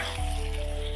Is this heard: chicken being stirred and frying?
yes